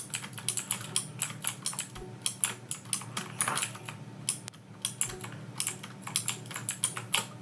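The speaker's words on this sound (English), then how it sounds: "Hope you enjoyed the keyboard sounds." Computer keyboard typing, a steady run of clicky keystrokes in quick irregular bursts with brief pauses, close and alone with no talking.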